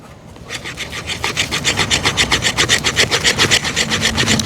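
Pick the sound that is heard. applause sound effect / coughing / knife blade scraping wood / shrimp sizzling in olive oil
knife blade scraping wood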